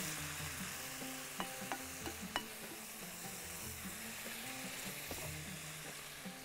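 Ingredients sizzle steadily as they are mixed in a frying pan, with a soft continuous hiss broken by a few sharp utensil clinks and scrapes, close up and without speech.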